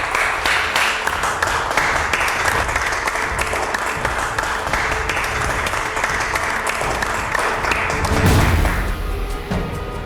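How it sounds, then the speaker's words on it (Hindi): Dense crowd applause on a film set, continuous and close for ten seconds, with a few thumps near the end. "क्या बात, तालियां।"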